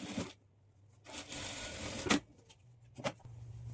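A sewing machine stitches back darts on a high-neck blouse in short bursts of whirring, separated by quiet pauses, with a couple of sharp clicks.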